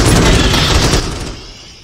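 Defensive turret fire in the Starship Troopers Terran Command strategy game, a dense loud burst of rapid shots and booms at close range that swiftly tails off into a fading rumble.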